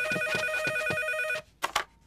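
A telephone rings in a French cartoon, a bright electronic trill pulsing rapidly and loudly for over a second, then stopping before a short clunk and a brief voice.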